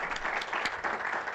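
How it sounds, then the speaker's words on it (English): A roomful of people at a county Board of Supervisors meeting gives a warm round of applause, a dense, steady patter of clapping hands with no talking over it. "Give him a nice round of applause."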